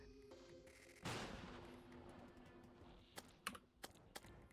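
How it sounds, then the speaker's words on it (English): Computer keyboard typing during a game stream: a loud broadband burst early on, followed by a few sharp, scattered key clicks close to the microphone over a faint steady hum. "I'm not speaking, I am typing."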